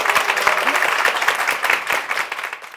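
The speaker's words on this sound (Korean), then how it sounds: "박수로 받아주시죠" A church congregation gives a welcoming round of applause as a deacon's wife is invited up on a church program, moderately loud clapping that swells and then thins toward the end.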